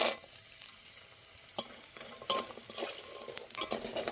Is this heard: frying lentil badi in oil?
yes